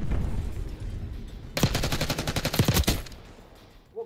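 Rapid automatic M16 rifle fire in Call of Duty Black Ops 6, a dense burst of overlapping shots lasting about a second and a half, preceded and followed by quieter game ambience.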